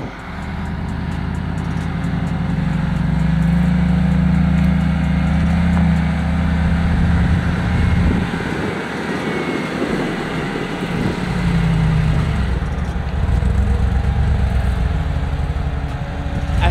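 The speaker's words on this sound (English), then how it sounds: "let's watch how this G-Wagon will pass these obstacles in maximum combat mode" Mercedes G-Wagon engine in low range with all three diffs locked, crawling over off-road obstacles, giving a steady droning rumble that swells and eases as it climbs, close and alone.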